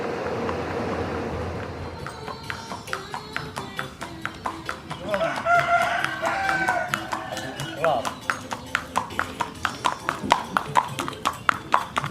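A Sandel horse, 18 years old, canters during training, its hooves clip-clopping in a steady, regular rhythm that grows louder and closer, with people talking over it.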